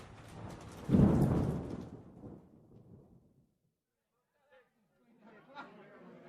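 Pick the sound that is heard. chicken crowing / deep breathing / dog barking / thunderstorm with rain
thunderstorm with rain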